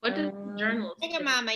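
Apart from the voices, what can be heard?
No distinct noise like a dog, phone or traffic.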